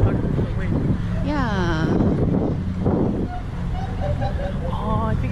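Strong outdoor wind blows into the microphone, a loud continuous low rumble and buffeting under people talking throughout.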